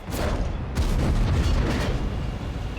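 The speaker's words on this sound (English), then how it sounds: "You see Artie's already shooting, he knew where to aim" Artillery fires in a tank video game as a dull, heavy boom and rumbling blasts. Sustained low roar and battle noise fill the short span at a loud level.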